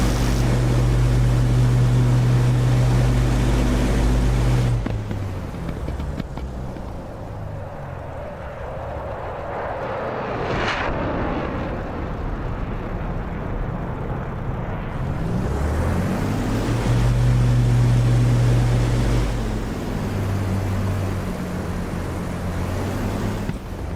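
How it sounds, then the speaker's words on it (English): A powerful aircraft engine roars continuously at takeoff in the DCS flight simulator game, its pitch and intensity shifting as it builds and settles, with rushing wind-like noise throughout. "Engine sounds great."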